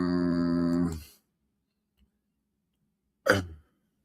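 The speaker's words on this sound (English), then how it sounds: "Y'all got these hiccups so bad they kicking my..." A single sharp hiccup-like burst stands alone after a stretch of silence, close and fairly loud. Before it there is a steady harmonic tone, and no speech is heard.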